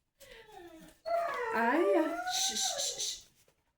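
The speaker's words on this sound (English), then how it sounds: "the dogs are gonna be going nuts" Dogs beneath a deck howl and whimper nearby, with a short wavering cry followed by a longer rising and falling howl that ends in high yips. The sound is loud and close.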